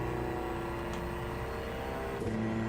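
In Gran Turismo, a classic race car at Tsukuba Circuit holds a high, steady engine drone with a buzzing whir, the revs kept up evenly with slight shifts near the end.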